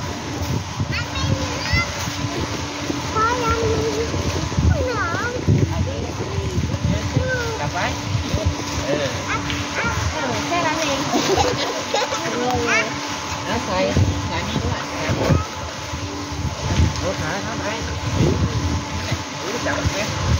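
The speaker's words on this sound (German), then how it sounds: "So, schauen wir den Kindern ein bisschen beim Planschen nach zu" Children splash and play in the kids' area of a hotel pool, with constant watery sloshing, excited young voices and adult talk mixed into a busy, continuous wash of sound.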